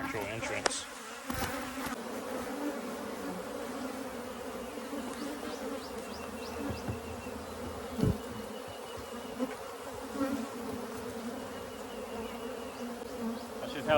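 Honey bees buzz steadily around their hive after a cut-out, a dense, continuous drone close by with a few brief clunks and louder swells.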